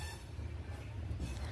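The Sainagar SF Express train (22893) running between Shirdi and Kolkata, heard as a steady low rumble and rolling hum of the carriage in motion.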